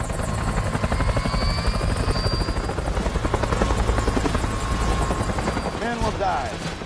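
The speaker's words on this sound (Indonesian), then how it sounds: "orang pilot helikopter bernama Crandall yang terkenal mempunyai skill menerbangkan Bell UH-1 dengan jarak yang sangat rendah" A Bell UH-1 helicopter flies low in a Vietnam War film, its rotor thumping steadily and loudly throughout, with a continuous engine whine and no pauses.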